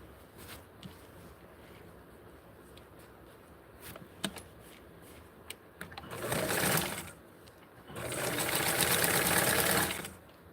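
A sewing machine stitches a hem on Barbie doll clothes in two bursts of fast, buzzing whir, each lasting one to two seconds, between quiet handling clicks.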